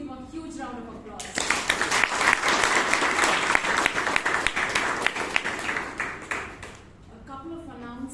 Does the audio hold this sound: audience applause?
yes